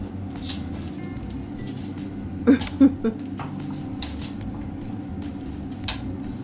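A female dog whimpers softly in a home, with a few brief louder yips or whines and a faint jangle over a low background hum.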